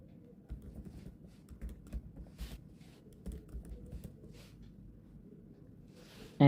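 Typing on a computer keyboard while writing React code, a steady run of light key clicks close by, uneven in rhythm, with a louder clack at the end.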